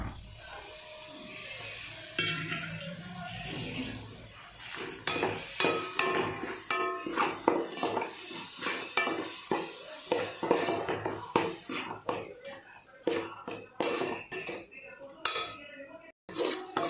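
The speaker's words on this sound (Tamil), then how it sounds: "போட்டுக்கிட்டு நல்லா பச்சை ஸ்மெல் போக நல்லா கிளறி விட்டுக்கிட்டே இருக்கணும்." A spoon scrapes and clanks against a pan while ginger-garlic paste fries for a country chicken curry, rhythmic repeated metallic strokes close by over a soft sizzle, irregular and sharp.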